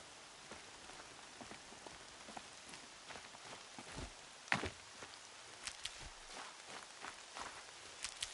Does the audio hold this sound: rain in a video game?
yes